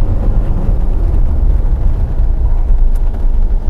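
A Porsche 914 pushed hard through a corner: a dense, steady low rumble of engine and road noise from inside the car, loud and continuous, with no talking.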